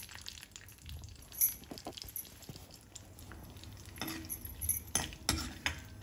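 Gavhale wheat pasta is stirred as it roasts in ghee in a pan: faint, irregular scraping and light clinks from a utensil, with a few sharper taps over a quiet background.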